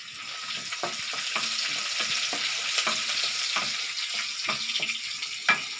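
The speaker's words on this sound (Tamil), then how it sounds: "இப்போ நான் பூண்டு போட்டேங்க கொஞ்சம் ஃப்ரை ஆகட்டும்" Garlic frying in a pan, a steady close sizzle running throughout, with light scraping taps from stirring scattered across it.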